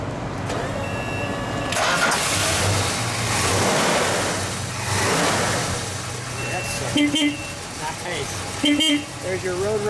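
Unrestored orange 1970 Plymouth Road Runner Superbird with a 440 V8 cranks and fires up, then revs and settles into a rumbling idle, loud and close, with people talking over it.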